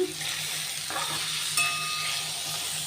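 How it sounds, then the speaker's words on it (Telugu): Vegetables seasoned with salt and turmeric fry in a hot pan with a steady close sizzle and hiss, broken by a few brief stirring scrapes and one sharp clink near the end. "వెజిటబుల్స్ అన్నీ బాగా వేగిపోయాయి"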